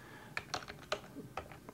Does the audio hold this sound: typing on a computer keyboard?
yes